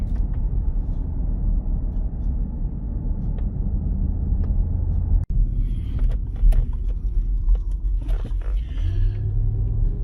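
A ten-year-old truck drives along a road, its steady low engine and road rumble filling the cab, with a sharp click midway and faint voices in the second half.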